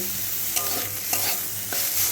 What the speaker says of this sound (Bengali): এইভাবে একটু ভালো করে ভেজে নেব